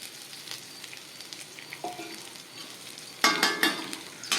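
Sliced bitter gourd sizzling as it fries in a pan, a steady crackle that swells into a louder, denser burst of sizzling near the end.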